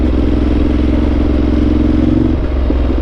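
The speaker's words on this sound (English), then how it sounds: "You hear this exhaust so well in the cockpit" A Ducati motorcycle engine rumbles loudly and steadily up close, a deep throbbing exhaust note with rattly clatter that eases slightly near the end.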